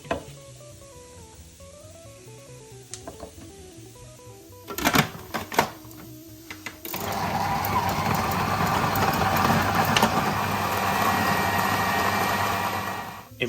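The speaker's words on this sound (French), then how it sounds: "maintenant on va hacher cette belle viande à l'aide d'un robot" A food processor mincing braised beef, starting with a few short pulses and clatters, then settling into a loud, steady whirring grind that runs unbroken to the end.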